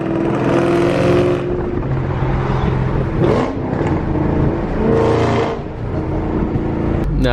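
A Ford Mustang Foxbody V8 revs hard and loud right up close, its engine roar sustained across the whole stretch with surging throttle swells and no talking over it.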